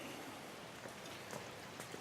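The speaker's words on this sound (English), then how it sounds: "And then it's raining out" Rain falls outside in a steady, soft patter with occasional distinct drops, quiet and continuous with no voices.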